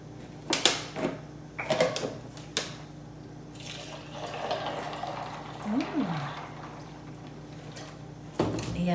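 Water is poured onto tea in a kitchen, a trickling, filling sound in the middle of the clip, with a few clinks and knocks before it and a brief voice-like slide.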